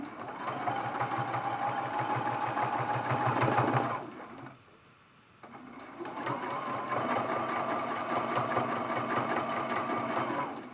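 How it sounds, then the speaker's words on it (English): A domestic sewing machine stitches a few locking stitches on a small quilted teapot mug rug, running in a steady loud whir, pausing briefly around the middle, then resuming for several more seconds. "I'm just going to do a couple of locking stitches there"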